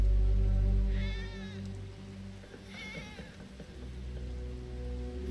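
A cat meows twice in the Apocalipsis video game, rising wavering cries about a second apart over a steady low game drone, fairly clear and near.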